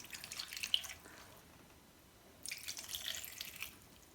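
Water is poured into a pan of chopped fresh apricots for chutney, two short splashing pours separated by a quiet pause, close and moderately soft.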